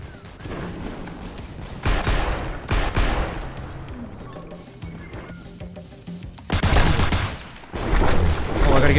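Video game gunfire in an action-movie filming game, with a tank battle under way: dense rattling bursts and heavy booming shots, fairly loud and continuous, swelling near the end.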